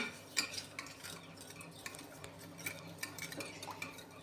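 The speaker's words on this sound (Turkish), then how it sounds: "Şimdi şöyle bir kaşık yardımıyla bunları bir güzel karıştıracağım." A spoon stirs sugar and yeast in a bowl, making quiet, close, irregular clinks and scrapes against the bowl, with no speech.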